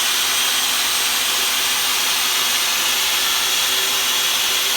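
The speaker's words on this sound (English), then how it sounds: "the drill motor will take it full speed and it's really not overloaded." A drill motor runs at full speed without being overloaded, giving a steady, loud, high-pitched whirring hiss that holds unchanged throughout.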